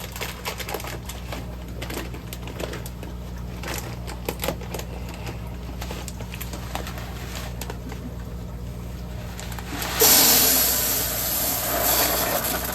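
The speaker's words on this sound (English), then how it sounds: "we're just going to chuck in both bags of our aqua soil here" Aqua soil granules pour from bags into a nano aquarium, a busy patter of small clicks and rattles that swells into a louder gritty rush of pouring near the end.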